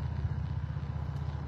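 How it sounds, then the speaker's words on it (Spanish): A Harley motorcycle passing near Grand Teton, a steady low engine rumble throughout, fairly faint and distant, with no talk over it. "Como la Harley que va a pasar en este momento por allá"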